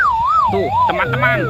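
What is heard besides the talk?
toy fire rescue helicopter siren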